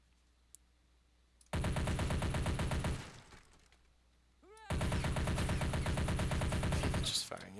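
Automatic gunfire in the Men of War: Red Rising video game comes in two long, loud, rapid bursts separated by a short lull with a trailing clatter.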